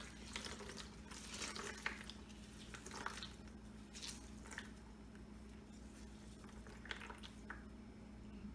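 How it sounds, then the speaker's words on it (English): Wet, soaked toilet paper squeezed by hand, giving soft squishing and dripping water sounds in irregular bursts over a low steady background hum, close up with no talking. "Then you're going to squeeze out all the water."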